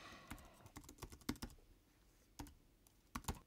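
Fingers type on a computer keyboard in irregular bursts of quick clicks, close and fairly quiet, with a short pause in the middle before the keystrokes resume while an email address is entered into a form.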